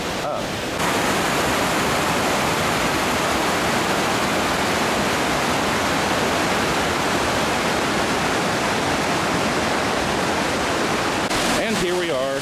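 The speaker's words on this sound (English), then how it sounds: "here we are at the end of the waterfall trail. This is Hemlock Falls." Hemlock Falls at the end of the waterfall trail in Cloudland Canyon roars close by in a loud, steady, unbroken wash of falling water that barely changes throughout.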